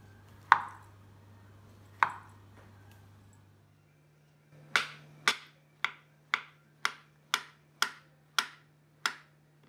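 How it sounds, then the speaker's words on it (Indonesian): A sharp, clean knife slices tempeh into pieces on a board, two spaced cuts followed by a quick, even run of about nine crisp chops, close and alone against a quiet room hum. "Setelah ini tempenya dipotong-potong, lalu dikukus."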